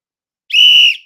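A single sharp, loud sports whistle blast, one steady shrill tone lasting about half a second, heard alone and up close.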